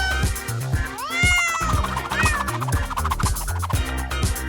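A cat meows several times in rising, wavering cries over a steady thumping musical beat, the meows fairly close and clear against the rhythmic backing.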